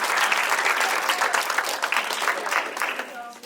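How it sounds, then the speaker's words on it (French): Dancers at a dance audition applaud themselves in a burst of brisk, close clapping with some crowd voices mixed in, thinning out near the end. "vous pouvez vous applaudir aussi"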